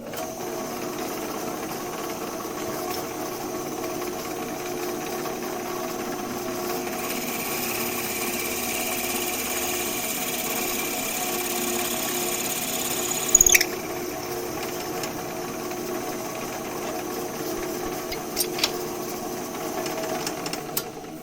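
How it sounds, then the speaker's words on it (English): A wood lathe runs while a 5/8 Forstner bit bores into a spinning workpiece, giving a steady mechanical drone throughout with a couple of brief knocks and scrapes near the end. "5/8 Forstner bit."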